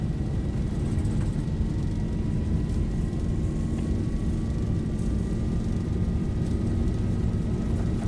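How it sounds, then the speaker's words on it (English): Airliner engines at takeoff thrust, likely in a flight simulator: a steady, broad roar with a faint rising whine, moderately loud and constant over the whole stretch. "Stabilized. Takeoff thrust set."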